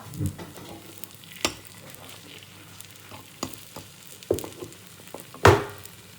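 Egg balls frying in hot oil for an egg drop curry give a steady close sizzle, broken by a few sharp clacks and scrapes as they are turned, with no talking.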